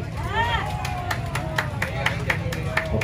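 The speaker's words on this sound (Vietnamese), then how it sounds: "mọi người vỗ tay nốt nhiệt chờ đón ngôi sao sân khấu nghệ sĩ ưu tú Cẩm Tiên" Applause and crowd murmur from a live Vietnamese cải lương stage show as the audience welcomes performer Cẩm Tiên; steady clapping runs throughout with scattered sharper claps, mixed with hubbub and a voice speaking over it.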